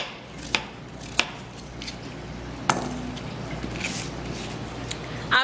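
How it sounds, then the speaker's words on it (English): A knife chops pumpkin into pieces on a board, giving a few sharp, separate cuts at an uneven pace, close and fairly quiet, over a soft background hiss. "peel off the skin, and just simply cut it into pieces"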